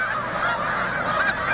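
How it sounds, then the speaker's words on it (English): A large flock of snow geese arriving on Chincoteague Island in fall honks continuously, a dense overlapping chorus of many birds calling at once, loud and steady throughout with no pauses. "great flocks of snow geese arrive on Chincoteague Island."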